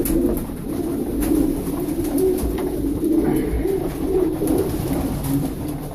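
Sport racing pigeons coo steadily in a loft, low soft rolling calls overlapping continuously for several seconds at close range with no talking.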